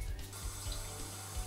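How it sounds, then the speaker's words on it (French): A kitchen sink tap runs with dyed water during a domestic plumbing connection compliance check, a steady close rushing flow with faint gurgling. "donc je te fais couler un évier au colorant"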